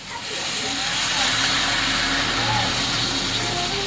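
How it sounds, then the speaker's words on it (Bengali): Water poured into a hot pan of fried pointed gourd, potato and rice, giving a loud steady hiss and sizzle of steam over a few seconds. "তো আমি এবার জল অ্যাড করে দেবো।"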